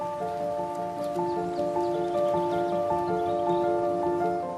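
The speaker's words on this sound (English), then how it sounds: "Even in the Lancashire drizzle," Light drizzle falls in a cold northern garden in Lancashire, making a soft, steady hiss with faint patter, under a constant low hum and no talk.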